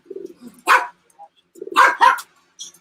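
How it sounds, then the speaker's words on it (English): Dogs bark at night in the background of a live late-night art auction stream, a few short, fairly loud barks coming in two bursts around faint quiet gaps. "hopefully we don't hear the dogs too much tonight"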